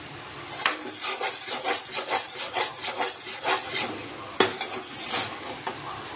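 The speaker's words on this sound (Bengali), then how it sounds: "দেখো মশলাটা ভালো করে আমার কষানো হয়ে গেছে" A spoon scrapes and stirs spice paste frying in oil in a pan, with repeated rhythmic scraping strokes and clinks against the metal that are fairly quiet and close, with no talking.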